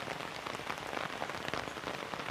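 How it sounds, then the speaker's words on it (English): Heavy torrential rain pours down in a rainforest, a dense, steady roaring hiss of drops striking leaves and ground, close and continuous with no voices. "The rain suddenly turned into a torrent, but I didn't mind."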